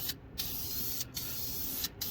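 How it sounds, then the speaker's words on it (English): An aerosol can sprays chassis paint under a Plymouth Duster in long continuous hissing bursts, with brief gaps between the spray passes. "we're just going to spray a liberal coat on here"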